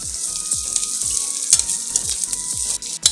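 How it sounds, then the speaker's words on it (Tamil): Grated ginger and garlic sauté in oil for a pattani (green pea) masala gravy, a close crackling sizzle broken by repeated stirring scrapes and clinks, no talking. "அதை போட்டு நல்லா இஞ்சி பூண்டு ஃப்ளேவர் போக நல்லா வந்து வதக்கிக்கலாம்"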